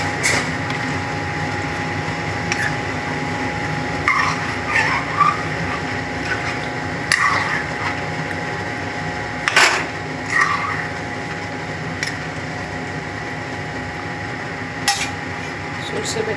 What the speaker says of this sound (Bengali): কালো সর্ষে, লবণ, সাদা সর্ষে আর লঙ্কা বেটে নিচ্ছি